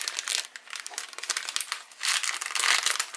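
Plastic wrapping on a quilting subscription box package crinkles and rustles in bursts as it is opened up close.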